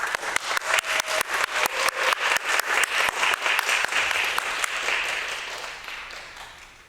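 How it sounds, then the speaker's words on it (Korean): A church congregation claps together in a steady rhythmic beat to welcome a speaker, then breaks into looser applause that gradually fades. "큰 박수로 환영하도록 하겠습니다"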